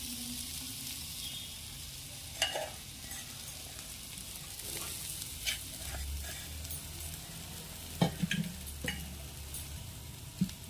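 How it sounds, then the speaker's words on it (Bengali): Green pea paste frying in ghee in a wok for pea kachori, giving a steady close sizzle with occasional stirring scrapes and light clicks. "কড়াইতে ঘি দিয়ে এরপরে কড়াইশুঁটির পেস্টটা দিয়ে দিলাম।"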